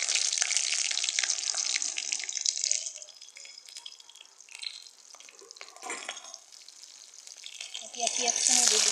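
Green chillies dropped into hot mustard oil with panch phoron: bright, close, steady sizzling and crackling that fades to a quieter spatter, then flares up again toward the end, with a voice speaking over it.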